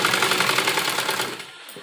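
A sewing machine stitches a baby frock, giving a loud, rapid, steady mechanical chatter that runs for about a second and a half before winding down and stopping.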